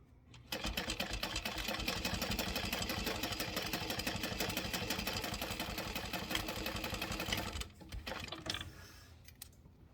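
A sewing machine stitching a slip pocket onto a fabric bag, running at a steady fast rhythmic whir and clatter close by for several seconds before slowing and stopping, followed by brief fabric handling.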